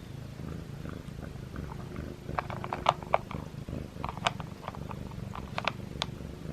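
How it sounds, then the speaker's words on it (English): A cat purrs close by in a low, rumbling rhythm, with a few soft clicks and rustles scattered on top. "He purrs louder than Simba."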